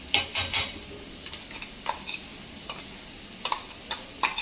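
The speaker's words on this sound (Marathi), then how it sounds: "अशा पद्धतीनं आपल्याला कांदा भाजून घ्यायचा आहे" Onion fries in a pan for vada pav while a ground paste of chili and coriander is stirred in, giving soft sizzling under scattered light scrapes and clinks of a spoon against the pan.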